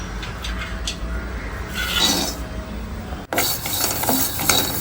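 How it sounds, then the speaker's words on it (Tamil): Garlic roasting in a pan for idli podi gives a steady, moderate sizzle and rustle with occasional stirring scrapes, continuous throughout with a brief dip near the end. "இதை வந்து பூண்டை வறுத்து எடுத்துக்கணும்"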